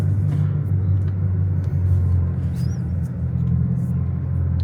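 A Bugatti Chiron Pur Sport drives along with a steady, loud low engine and road rumble, an even drone holding throughout with no sharp changes.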